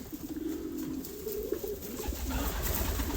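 Homing pigeons coo softly in a pigeon loft, their low murmuring calls continuing steadily against faint background noise.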